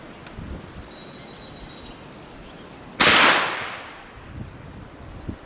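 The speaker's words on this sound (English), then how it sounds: "this is the first time shooting this gun" A single sharp, loud gunshot from a .44 Magnum firing semi-jacketed hollow points outdoors, with a long echoing decay afterward and faint birdsong around it.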